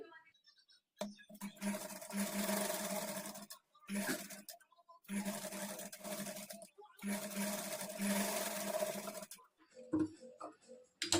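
Sewing machine stitching a kurti in a home tailoring lesson, running in several loud bursts of steady whirring separated by brief pauses, with a little handling noise at the end.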